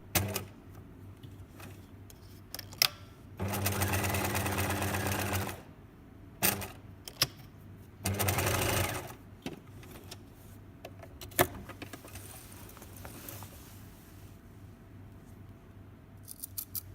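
Sewing machine stitching buttonholes into a wrap skirt waistband, two separate sustained bursts of motor whirr and needle chatter with quiet handling clicks and rustles between them.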